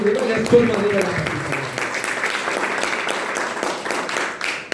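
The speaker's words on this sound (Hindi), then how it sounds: "जोरदार तालियां होनी चाहिए" Audience applause fills a hotel seminar hall, steady dense clapping from a crowd with a voice briefly audible at the start, fading toward the end.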